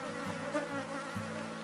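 A honeybee swarm buzzes steadily during a hive split, a dense continuous drone of many wings up close with no talk.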